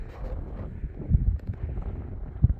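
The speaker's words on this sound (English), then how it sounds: "I'm obviously up on a ridge right now. It's a little bit more windy." Low rumbling wind on an exposed mountain ridge buffets the microphone in uneven gusts, with a couple of stronger blasts near the middle and end.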